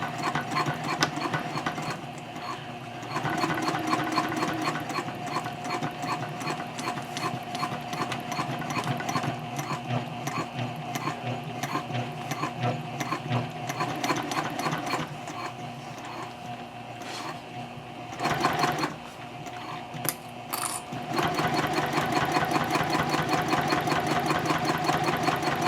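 A sewing machine stitches a handbag seam at a 3.5 stitch length, humming steadily and close for a long run with a brief backstitch break before it resumes.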